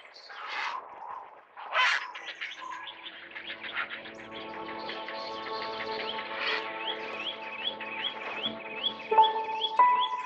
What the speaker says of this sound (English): which serves as a nursery for a colony of herons